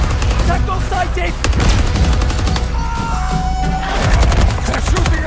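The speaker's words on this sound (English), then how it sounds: "They're shooting at us!" Rapid bursts of gunfire and explosive blasts from a Battlefield 2042 firefight, loud and dense throughout, with occasional game voice callouts mixed in.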